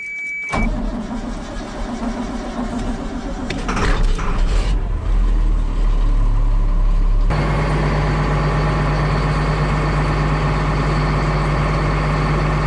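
A truck engine turns over and catches after some mechanical clatter and ratcheting, then settles into a loud, steady, close idle that drones to the end.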